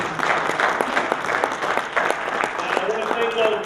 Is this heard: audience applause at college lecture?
yes